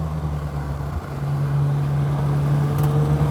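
A BMW Z1 roadster's engine hums steadily through corners, a close, even drone with slight rises in pitch as it drives.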